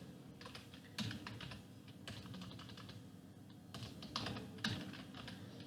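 An SQL query is typed on a computer keyboard in quick, close bursts of key clicks with brief pauses between them, fairly quiet and with no talk.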